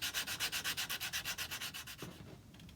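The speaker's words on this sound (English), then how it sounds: "Just rough it up with a bit of sandpaper," Sandpaper roughening a part on a large cuckoo clock under repair, a quick regular series of about twenty close rasping strokes that slow and fade near the end, with no voices.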